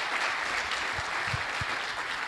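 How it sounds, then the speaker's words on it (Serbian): Audience at a tech talk on developing Android apps for wearables giving a dense, steady round of applause that fills the whole stretch at even loudness, with a few low thumps underneath. "molim još jedan aplauz za mene."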